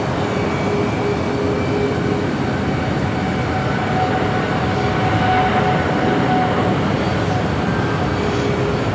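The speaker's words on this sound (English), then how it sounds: "We got a United Dreamliner. Be rolling down the 25 right." A United Boeing 787 Dreamliner rolls down runway 25 right at Los Angeles LAX airport, a steady, loud jet roar with faint tonal whine that holds throughout, with no voices.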